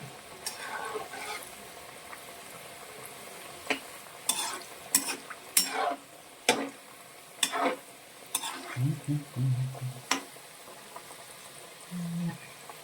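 Onion pakoda, rice-flour fritters with sliced onion, frying in oil, with a steady soft sizzle under repeated sharp stirring and scraping clatters of a utensil, plus a few low bubbling bursts near the end.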